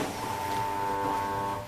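Motorized wheel lifter on a Corghi Master 26 tire changer runs with a steady electric whine and hum, close and continuous, with faint background noise.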